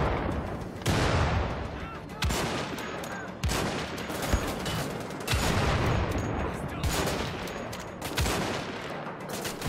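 Gunfire in the video game Wolfenstein: The Old Blood, dense bursts of automatic fire and heavy blasts in repeated waves, loud and close, with brief gaps between volleys.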